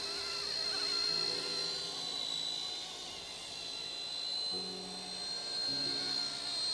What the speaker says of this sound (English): What an amazing aircraft.